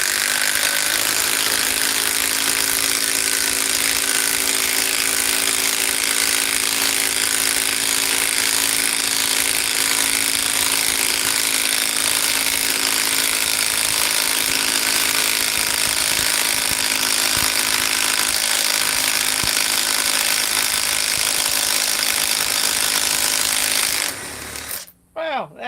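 A Cobalt power tool drives a 3/8 by 5 inch lag screw. It makes a loud, continuous whirring and hammering drone for about 24 seconds, then stops abruptly near the end.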